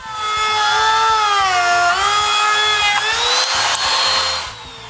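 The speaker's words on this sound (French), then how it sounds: "avec une petite toupie et une mèche à copier, je coupe les trous des pentures avec mon gabarimètre" A small router fitted with a copy bit whines steadily as it cuts hinge recesses into MDF guided by a template, its pitch dipping under load before the motor spins down at the end.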